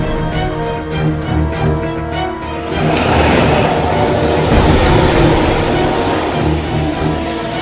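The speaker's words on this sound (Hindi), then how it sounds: "ये तो बस की आवाज है, लेकिन ये बस आ कहां से रही है?" A bus engine rumbles loudly and grows heavier as it draws near, with a steady roar and rattling over the last few seconds.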